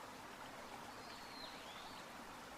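A gentle river flows in quiet countryside, giving a soft, constant wash of running water at low level with no other sounds.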